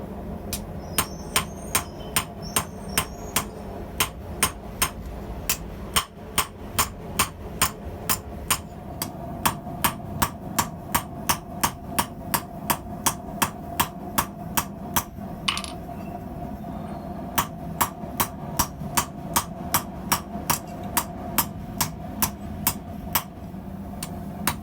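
A hammer strikes hot steel tongs on a small anvil, producing a long run of sharp, ringing blows in a fast, steady rhythm with brief pauses, close and clear.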